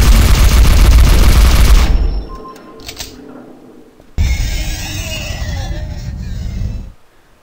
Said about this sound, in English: I can just fire a rocket down the corridor and achieve much better results